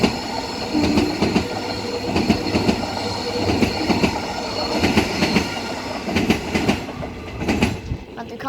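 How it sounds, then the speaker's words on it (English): A non-service EMU electric multiple unit train, EMU 69 leading, passes at speed, with a continuous rush of wheels, rhythmic clickety-clack over rail joints and faint wheel squeal, close and fairly loud. "Non-service train about to pass. I hope this is fast."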